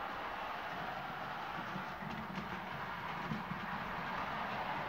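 A small O gauge model train of 1:43 Williams and Audi R8 cars runs steadily along its track, a continuous whirring rumble with faint rhythmic clicking, close by and unbroken.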